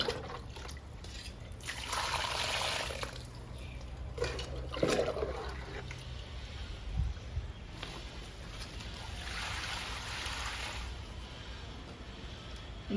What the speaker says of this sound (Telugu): బుషీగా ఉన్న మొక్కలకి వాటర్ని కూడా మధ్యలో నుంచి ఇవ్వాలండి.